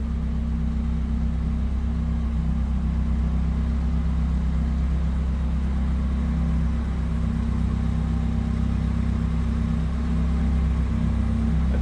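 A 1976 Chevrolet Vega's original 2.3-liter inline four-cylinder engine idling steadily, a constant low rumble with a faint mechanical whir, unchanging throughout and heard close up.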